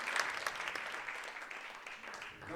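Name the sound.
audience applauding the dancers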